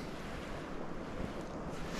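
Wind blowing across a lake during bobber fishing for trout, a steady broad roar buffeting the microphone with gentle lapping water beneath, no voices.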